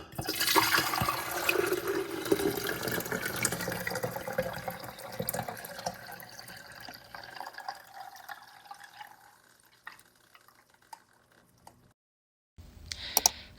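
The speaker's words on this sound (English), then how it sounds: "I'm gonna put it here in the pitcher. But I'm gonna use this like strainer so it catches all the cinnamon stick and the little petals" A cinnamon and monk fruit drink with cinnamon sticks and little petals is poured through a strainer into a pitcher, a loud continuous splashing stream that gradually thins and fades, followed by a brief gap and a short final trickle.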